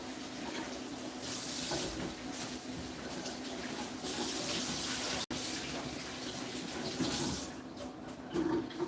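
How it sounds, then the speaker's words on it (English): Kitchen tap runs in a steady broadband gush as hands are rinsed under it, close and continuous for about nine seconds, with one abrupt momentary cutout midway and a slight change in the splash near the end. "Let me rinse my hands off."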